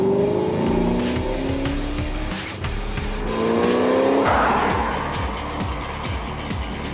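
A loud 636hp HSV GTSR W1 V8 engine roars and climbs through the revs with rising pitch, with gear changes and tyre noise as the car drives hard on a racetrack.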